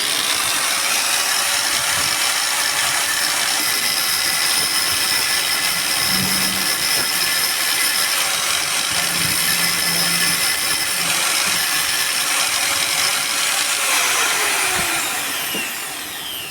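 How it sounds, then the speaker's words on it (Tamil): A cutter slicing through the worn bush on a mixer grinder motor shaft, giving a steady, loud mechanical grinding and whirring that runs continuously throughout, close to the microphone with no talking. "அதனால கட்டரை வச்சு கட் பண்ண போறேன்."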